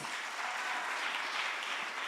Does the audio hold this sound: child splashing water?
no